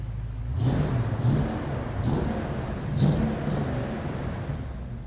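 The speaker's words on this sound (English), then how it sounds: "Listen to that new exhaust." A 1965 Ford Mustang Fastback engine revs repeatedly through a throaty new exhaust, five or so sharp blips rising over a rumbling idle, close by, with no talking.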